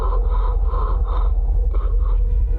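Astronaut panting inside a space helmet in a film scene, rapid rhythmic breaths heard close and steady throughout, with no talk.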